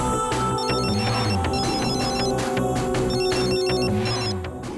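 A mobile phone ringtone rings on and on without being answered, a loud repeating electronic melody in regular bursts, heard alone with no voices.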